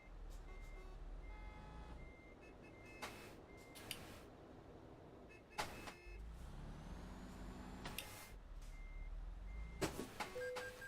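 In Euro Truck Simulator, a truck's reversing alarm beeps repeatedly in an even, regular rhythm over a low engine hum, with occasional clicks and thumps in between.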